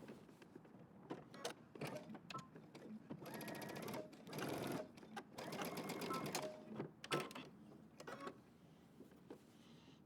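A sewing machine top stitches along the edge of a jeans jacket, giving close, rapid mechanical whirring in several bursts of varying length with short stops between them.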